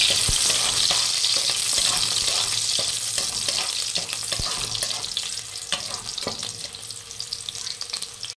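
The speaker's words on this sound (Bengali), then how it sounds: "এবার ওই রসুন ছাড়িয়ে রেখেছিলাম সেগুলো দিয়ে দেব। তারপর শুকনো লঙ্কাটাও আমি দিয়ে দেব, সব একসাথেই ভাজা হবে।" Steady, lively sizzling of peeled garlic and dried red chilies frying together in hot oil, with occasional stirring clinks, loud and close throughout.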